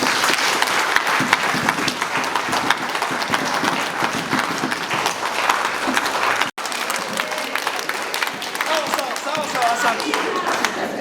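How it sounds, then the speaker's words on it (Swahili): A church congregation applauds together, with sustained, dense clapping and crowd noise that runs for about eleven seconds, broken only by a brief cut near the middle. "Tumchapie Bwana Yesu makofi"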